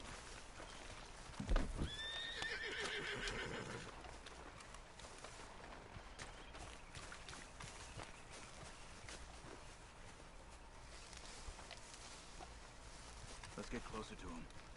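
A horse in the Red Dead Redemption 2 video game neighs loudly and briefly near the start, followed by quieter clip-clop hoofbeats and ambient outdoor sounds for the rest of the stretch.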